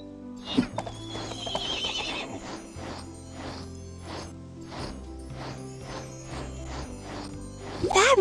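A horse in the video game Barbie Dreamhouse Adventures whinnies loudly, then its hooves clip-clop in a steady rhythm, with bright chimes and game music beneath and another whinny at the end.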